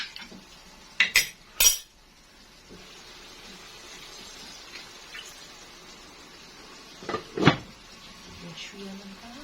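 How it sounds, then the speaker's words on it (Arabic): A utensil clanks and scrapes inside a pot while tajine ingredients with peppers are stirred, a few sharp metallic knocks at the start and again near the end, with quiet kitchen sounds between. "خلطهم مليح مليح."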